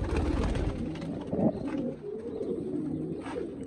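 Pigeons cooing in a loft, a continuous low burbling coo close by with a few louder throaty bursts, no one speaking.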